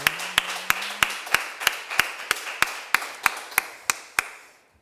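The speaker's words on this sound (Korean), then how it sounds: "우리 큰 감사의 박수 올려드리겠습니다" A church congregation at a Sunday worship service claps in steady unison, about a dozen sharp, evenly spaced claps ringing in a reverberant hall, with a faint tone underneath at first and the rhythm stopping abruptly.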